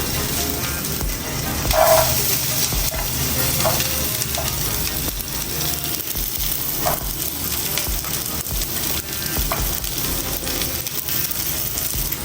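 Chopped garlic frying in oil in a pan while a white sauce pasta is being made. It gives a steady, close, even sizzle the whole way through, with a few faint clinks from the pan and no talking.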